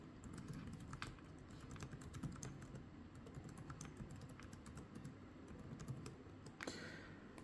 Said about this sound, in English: So let's do a typing test